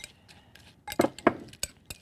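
Utensil clinking and scraping against a bowl while raw food is stirred together with marinade, a few close knocks and scrapes clustered in the middle, quiet in between.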